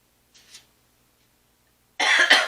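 Two coughs from a person: a faint short one early, then after a silence a loud, close, harsh double cough.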